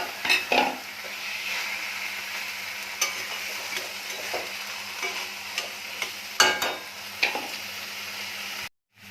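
Taro leaves cooking with a fried hilsa fish head in a pan, with steady stirring scrapes and soft sizzling close by, a few louder clatters of utensil against pot, and no talking.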